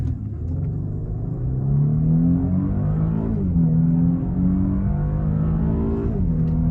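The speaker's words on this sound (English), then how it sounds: "We're gonna do a 0 to 60 real quick" A 2014 Mercedes-Benz E350 4Matic (W212) accelerates hard from a brake-torqued launch, its engine rising in pitch through several gear changes with a steady loud rumble heard from inside the car, no talking.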